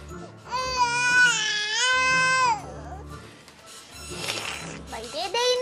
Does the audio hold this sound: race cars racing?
no